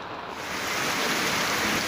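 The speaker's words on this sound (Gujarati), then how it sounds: "વરસાદ ખાબક્યો છે" Dense, steady hiss of heavy monsoon rain pouring down in Chhota Udaipur, Gujarat, close and loud, with no voices.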